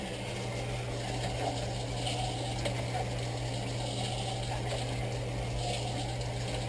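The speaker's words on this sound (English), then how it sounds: "we can open up this valve a little bit more and continue to let the water in" Water streams steadily into an irrigation system through a partly opened valve, a continuous rushing hiss with a low mechanical hum underneath, even and unbroken throughout.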